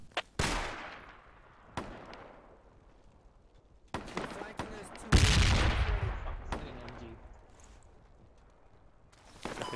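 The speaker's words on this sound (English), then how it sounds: "I'm getting shot at here on the mortar side" Gunfire in the military shooter game Project Reality: a handful of sharp, booming shots at irregular intervals, each trailing off in a long echoing decay, with low rumbling in between.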